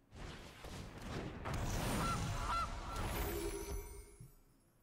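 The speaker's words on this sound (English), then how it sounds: "So many geese in the air" Geese honk overhead, a flock calling in rough, overlapping honks that swell and then fade as they pass, with a whoosh of air and no talking.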